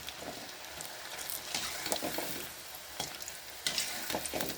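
Millet and carrot bonda fritters made with pearl millet, wheat, onion and pepper fry in hot oil with a steady close sizzle and bubbling, broken by a few louder crackles and stirring clinks.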